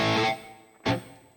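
A guitar chord played through a Digitech GSP 1101 processor with Ownhammer impulse responses and a short reverb, struck twice, each time ringing briefly before a quick decay.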